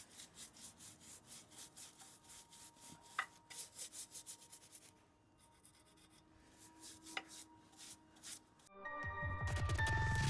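An abrasive sponge scrubs a rusty GSXR motorcycle chain in quick, even back-and-forth strokes. The rubbing is quiet and close, then pauses before a louder, rougher noise at the end.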